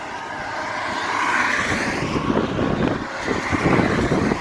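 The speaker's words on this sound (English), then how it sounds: "yeah, that traffic bothers me." Fast road traffic passes near a trail by Harper's Ferry, West Virginia, a rising and falling whoosh of vehicles with wind rumble, no voices.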